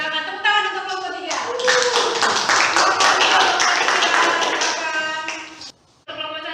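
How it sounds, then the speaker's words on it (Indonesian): A classroom group claps for group 3, a dense burst of many hands lasting several seconds with a teacher's voice speaking over and around it, then stopping abruptly. "silakan tepuk tangan untuk kelompok 3"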